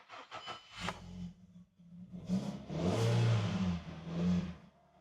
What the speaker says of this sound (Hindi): ये देखें जी, गाड़ी स्टार्ट हो चुकी है।